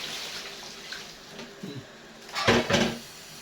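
Tap water splashes into a cooking pot in a home kitchen, two short bursts of pouring heard up close, with quieter handling noise before them and no talk.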